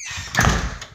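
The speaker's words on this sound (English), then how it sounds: "Let me open the door." A house door swings open, giving a short creak and soft clatter, close and fairly loud, with no talking.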